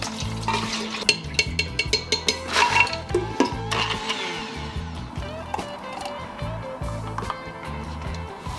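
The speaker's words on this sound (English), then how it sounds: "Do you guys hear that simmer?" Breakfast cooking in a pan at home, with a steady bubbling simmer and sizzle running throughout, broken by frequent utensil clinks and scrapes against the cookware; no talking.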